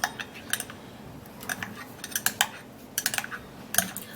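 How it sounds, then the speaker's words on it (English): A spoon stirs and mixes a milk mixture in a bowl, giving irregular clinks and taps against the bowl's side with quiet gaps between, close and fairly soft, with no talk. "now I'm gonna be stirring and mixing it all up"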